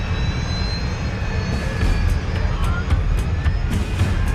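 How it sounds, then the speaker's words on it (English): Jet airliner engines spool up after a restart following an encounter with volcanic ash, a loud steady roar with rising tones and faint clicks layered over it. "Engines 1 and 2, both back online."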